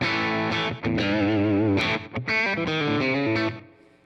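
Electric guitar played through a Line 6 Helix floor unit with slapback delay, compressor and overdrive engaged, sustained chords and single notes ringing with repeats, loud and continuous with a couple of brief gaps, fading at the end.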